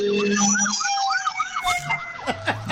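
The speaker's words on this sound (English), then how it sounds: "Oh, here comes the siren." A siren wails with rising and falling sweeps, fairly loud and shifting as it passes, over a rumble of traffic.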